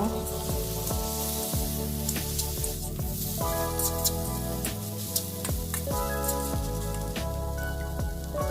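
Steady sizzling as taro stir-fries in a pan, heard beneath loud, busy background music with occasional scrapes and stirring.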